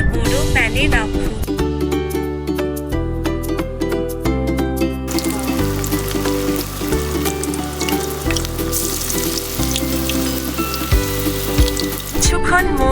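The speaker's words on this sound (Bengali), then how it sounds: "তারপর কিছু বল তৈরি করুন এবং ধীরে ধীরে তেল দিয়ে বড় প্যানে রাখুন।" Red spinach (lal shak) pakora balls sizzle and fry in oil in a large pan, a steady crackling hiss that swells midway, heard beneath loud, rhythmic background music throughout.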